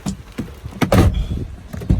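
A Ford Mustang GT car door handled as someone climbs in during rain, with a quick sequence of thumps and clunks peaking near one second, close and loud, followed by softer knocks and a final thud.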